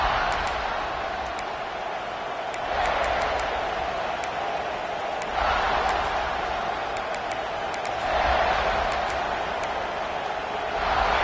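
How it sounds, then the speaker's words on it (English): A football stadium crowd roars in broad, steady waves that swell and ebb several times, loud and distant-sounding, with a commentator's voice faintly beneath. "This crowd ready to make its presence known."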